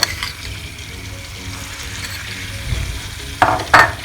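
Corn flour toasts in melted butter in a pan, a low steady sizzle underneath, then a couple of sharp scraping, clattering stirs of a spoon against the pan near the end.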